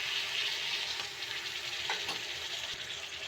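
Potatoes sautéing with turmeric, coriander powder and yogurt in a pan, giving a steady hissing sizzle close by with a brief stirring scrape midway.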